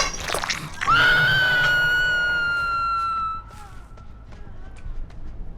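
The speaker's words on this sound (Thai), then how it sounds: "มีคนกรีดมีคนกรีดมีคนกรีด" A survivor in the Dead by Daylight horror game lets out a long, piercing scream that holds steady for about two seconds and then fades out, preceded by brief scuffling and followed by quieter game ambience.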